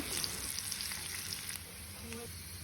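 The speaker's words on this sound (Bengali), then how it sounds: "এরপরে এখানে হাফ কাপ পেঁয়াজ দিয়ে আমি পেঁয়াজগুলোকে একটু সময় নিয়ে বেরিস্তা করে নিব" Onions fry in soybean oil for nihari, a soft steady sizzle with faint crackles, quiet and continuous, with no voices.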